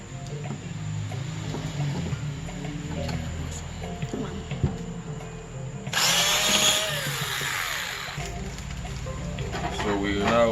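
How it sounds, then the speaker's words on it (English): A power screwdriver whirs in a loud, close burst partway through while opening the casing of a 300W UPS, following quieter handling noise and someone talking. "power screwdriver"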